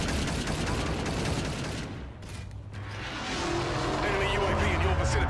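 Video game aircraft gun run: dense bursts of rapid gunfire and booming impacts, a short lull in the middle, then renewed firing under mechanical rumble, with a voice speaking over it.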